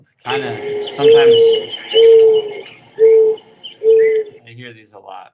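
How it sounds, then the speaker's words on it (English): Four low, hollow mourning dove coos play one after another at an even pace, clear and fairly close, over a faint background hiss and a brief murmur. "Mourning dove again."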